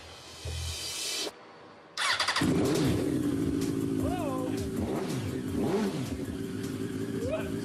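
A custom sport motorcycle engine cranks, fires up after a brief pause and revs repeatedly in loud, close bursts, with a voice talking over it.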